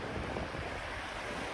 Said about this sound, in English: there is the river, the stream going through